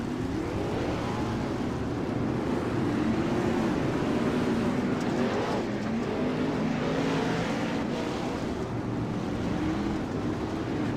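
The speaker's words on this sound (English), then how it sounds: "These non-wing cars are very tricky, especially when the track gets slick." Non-wing sprint cars race at Lanier National Speedway, a continuous loud roar of engines filling the air for the whole stretch with steady rising and falling drones, no talking.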